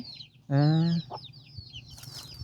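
A chicken clucks once, loud and close, with a sharp harmonic call, followed by fainter bird chirps and rustle in a rural yard where chickens are fed.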